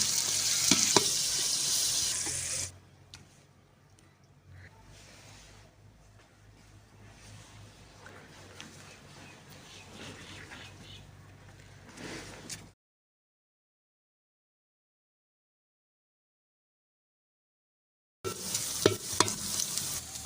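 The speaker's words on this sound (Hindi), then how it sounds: "इनको भूनेंगे अच्छे तरीके से।" Dal mash lentils fry and sizzle in a pot during village-style cooking, with stirring scrapes against the metal. A stretch of silence follows, then louder sizzling resumes.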